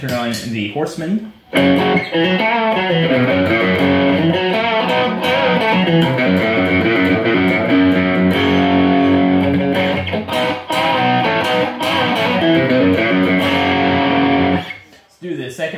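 Loud overdriven electric guitar through a Horseman overdrive pedal into a Blackstar HT Club 40 MKII amp, playing chords and melodic lines almost continuously, thick and distorted, with brief pauses at the start and end.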